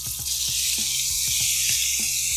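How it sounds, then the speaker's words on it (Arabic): Minced meat sizzles loudly in hot oil in a pan, a dense close hiss broken by a series of sharp spatters and crackles. "انزل على طول اللحمه المفرومه"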